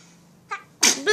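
A baby sneezes up close: a small catch of breath, then one sharp, loud sneeze with no voices around it.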